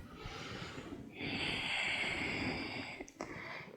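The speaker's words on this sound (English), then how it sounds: "Breathe in, breathe out." A person breathes in and out during yoga pranayama, a soft airy exhale and then a stronger, louder rushing breath through the nose that fades with a brief catch near the end, close and alone.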